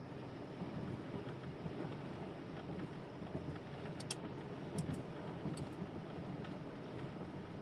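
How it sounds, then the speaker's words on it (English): Wind blowing steadily outdoors from the east, a faint broadband rush buffeting the microphone with a few light clicks, no talking heard. "the wind is coming from the east"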